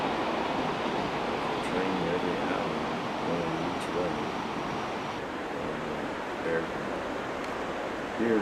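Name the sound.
mountain spring water dripping and flowing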